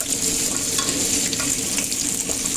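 Garlic frying in a hot pan as the first step toward fried fish, a steady close sizzle and crackle with light stirring scrapes throughout, no talking.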